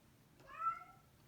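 A single cat's meow, a short, clear, rising and falling call at moderate distance, heard against quiet background noise.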